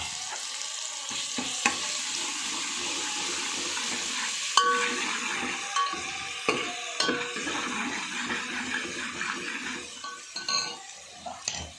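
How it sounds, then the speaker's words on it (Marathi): Onion frying in a pan with a spoonful of ginger-garlic paste, a steady close sizzle with scattered clinks and scrapes of a utensil against the pot, no talking. "कांदा गरम झाला, आपण आता लसूण अद्रक सांबाराची 1 चम्मच पेस्ट टाकून घेऊ."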